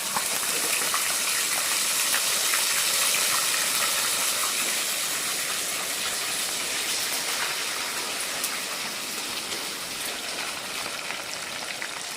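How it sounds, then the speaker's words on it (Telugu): Chicken pieces deep frying in hot oil for a homemade chicken pickle, a steady, dense, close sizzle and crackle that holds at an even loudness throughout, with no voices. "ఆయిల్లో ఫ్రై చేస్తున్నాం చికెన్."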